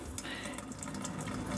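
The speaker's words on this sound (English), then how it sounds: "Alright, and you gotta drain the water out." Water pours and splashes as it is drained from cooked instant jjajang noodles in a kitchen, a continuous running stream with faint background sounds.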